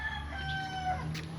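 Bantam chickens calling faintly nearby, a few thin drawn-out clucking and crowing tones over quiet outdoor background hum, with no talk.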